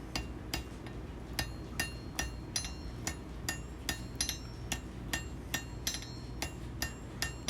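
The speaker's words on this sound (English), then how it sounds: "The first thing I'm going to do is just tap the edges together and get it nice and snug." A hammer taps the edges of hot split square steel stock together at the forge, bringing the metal toward welding heat, in a steady series of sharp, ringing close strikes about twice per second, with a quiet hum between blows.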